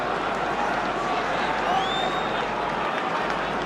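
A football stadium crowd at an Everton versus Liverpool match roars in a dense, continuous wash of cheering, with a whistle-like tone rising briefly in the middle.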